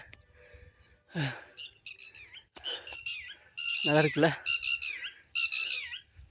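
Birds squawk and call over rice paddy fields, several sharp calls scattered through the stretch alongside nearby talking.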